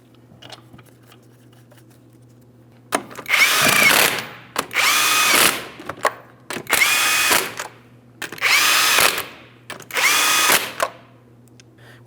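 Power tool running lug nuts onto a 2007-2014 Ford Edge wheel: five loud whirring bursts of about a second each, separated by short pauses, near and clear over a low steady hum.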